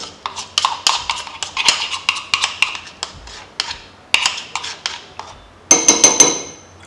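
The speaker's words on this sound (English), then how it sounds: "we'll just empty our avocado pear into the lemon and egg white mixture" Avocado is emptied into a lemon and egg white mixture in a bowl, giving a run of sharp clinks and taps of utensil against the bowl, irregular and close, with a brighter cluster of metallic knocks at the end.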